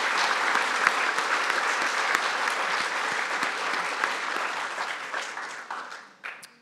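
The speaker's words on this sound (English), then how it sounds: "And can we just get a round of applause for the" An audience at an artist talk applauds steadily, a dense, even wash of many hands clapping that holds strong, then thins and fades out near the end.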